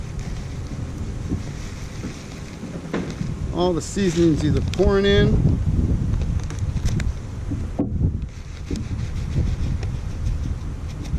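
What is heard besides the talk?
strong wind blowing outdoors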